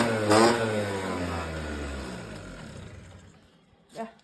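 A small engine in a home garage revs once, then the roar winds down and fades, with a brief knock or bump near the end.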